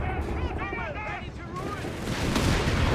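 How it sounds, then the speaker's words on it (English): A Sturmtiger bombardment in Company of Heroes 3 lands amid battle noise, a rumbling explosion swelling louder toward the end beneath a caster's excited commentary and other gunfire. "moving in the Sturm to bombard. And utterly obliterating there Bobby"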